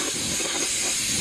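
Compressed air from an air hose blowing out a hay baler, a loud, close, steady hiss that holds at an even level for the whole brief moment.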